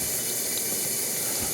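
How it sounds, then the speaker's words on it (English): Water rushing steadily into the tub of a new home dishwasher as it fills, a constant close hiss with no pauses and no talk. "I'm sure that's just the water filling up the tub of the dishwasher"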